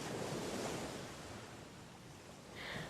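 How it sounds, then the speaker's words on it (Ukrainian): Steady rushing surf of sea waves, a broad continuous wash swelling and easing, with a brief rise toward the end and no voices. "Можна відпочити біля самої води і послухати пісню моря."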